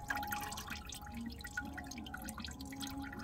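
Leftover coolant drips from the lower radiator hose of a 2008-2010 Nissan Murano during a radiator replacement, a faint, steady patter of drops and trickle close by, with no talking.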